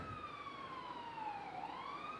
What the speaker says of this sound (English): It's available to us even as the sirens go by.